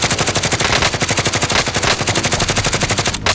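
Rapid automatic gunfire in a first-person shooter video game, a loud continuous burst of evenly spaced shots with a brief break before a final crack.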